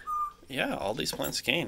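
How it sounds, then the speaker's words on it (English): Pet birds kept indoors, including African grey parrots, lovebirds and a parakeet, give a brief clear whistle, then someone talks over faint chirps. "So if you hear birds chirping in the background"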